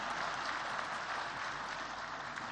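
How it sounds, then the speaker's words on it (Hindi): Audience applause at a formal award ceremony, a steady, even wash of many hands clapping that continues without a break, heard at a distance and fairly quiet. "तालियां आपकी शुभकामनाओं की तरह हैं,"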